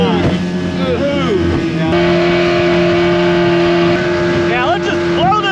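A 1958 Starcraft Jet-Star boat's troubled motor runs steadily and loud, holding a constant tonal drone with pitch wobbles, while people talk over it.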